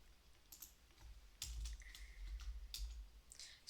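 Sparse keystrokes on a computer keyboard, a few soft clicks spaced apart over a low background hum, fairly quiet and close.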